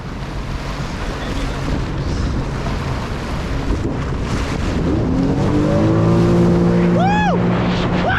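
A jet ski on the ocean runs at full throttle, a steady loud engine roar with heavy wind buffeting and wave noise, rising in pitch near the end as people shout over it.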